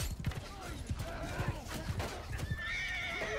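Horse neighing in the video game Mount & Blade II: Bannerlord: loud whinnies with clip-clop hoofbeats, set against busy in-game ambience.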